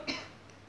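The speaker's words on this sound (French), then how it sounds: "Attendez un petit peu, il faut que je tousse." A single short cough, close and fairly soft, from a woman knitting indoors, followed by quiet room tone.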